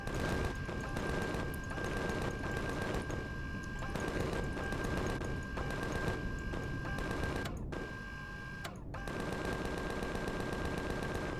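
Dense, continuous video-game gunfire in Empyrion, rapid machine-gun bursts hammering almost without pause against a steady tone, with two brief drops near the end before the firing resumes.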